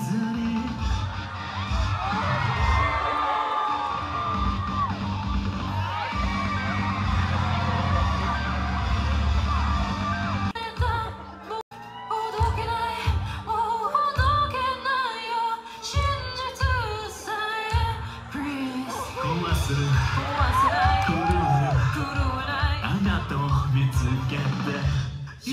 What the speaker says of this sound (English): the whole crowd is singing this